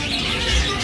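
Birds chirp and coo near a river in a rural spot, a short burst of calls over steady outdoor background noise, with no talking.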